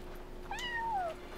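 A single cat meows once in the video game Yonder, a clear rising-then-falling cry lasting about half a second over a soft steady background hum.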